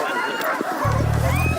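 A dog gives quick, fairly faint yips and barks over a steady background hum.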